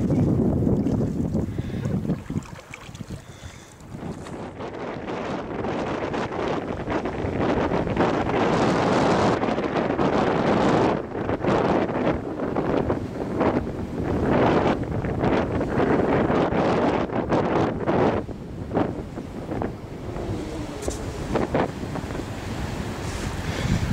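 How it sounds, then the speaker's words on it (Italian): Strong gusty wind buffeting the microphone while kayaking over splashing open water, a continuous roar with rising and falling bursts. "C'è il vento che ci porta."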